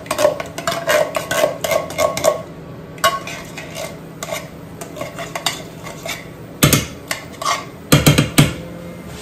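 A utensil scrapes and clinks against a saucepan as shrimp are stirred with coconut cream, giving irregular bursts of metallic knocks and scraping, close and fairly loud, with brief pauses between strokes.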